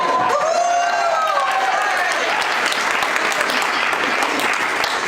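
A crowd at a college orientation claps and cheers for the president, sustained dense applause with a few whoops near the start, loud and steady throughout.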